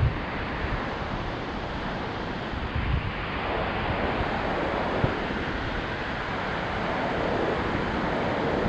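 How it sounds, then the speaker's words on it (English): Small Pacific Ocean waves washing onto the shore at the Kalaloch campground day use area, a steady broad hiss with wind buffeting the microphone throughout. "Waves aren't very big today."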